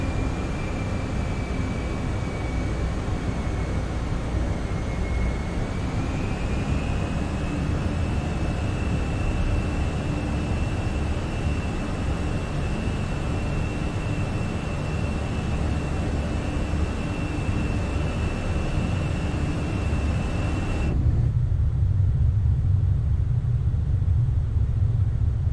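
An airliner departing in Microsoft Flight Simulator gives a steady, loud engine roar and rumble with a sustained whine throughout, and near the end the high end drops away, leaving a muffled roar.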